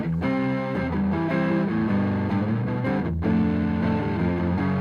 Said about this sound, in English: same overdrive setting, 2-tube screamer into a Fender Deluxe Reverb reissue